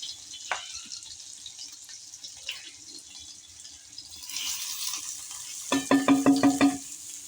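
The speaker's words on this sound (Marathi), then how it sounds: "सो बघा मस्तपैकी कांदा आपण आता छान भाजून घेणार आहोत" Chopped onion sizzling in oil in a pan over a wood-fired stove, with garlic already frying; a steady soft hiss, then a burst of quick rhythmic clanks from stirring near the end.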